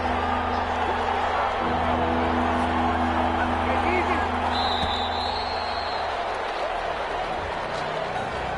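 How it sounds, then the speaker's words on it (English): A simulated stadium crowd in a PS4 football game swells with cheering and scattered applause ahead of a big third down, forming a loud, unbroken wash of noise over a low steady hum. "The crowd getting into it as we come up on a big third down."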